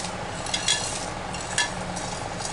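Masala with poppy seeds and cashews frying in a pan: a steady close sizzle with a few light spoon scrapes and stirring clinks.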